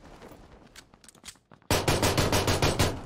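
Rapid automatic gunfire in the PUBG battle royale game bursts in suddenly after a quieter stretch of faint scattered shots, sustained loud rattling volleys close by.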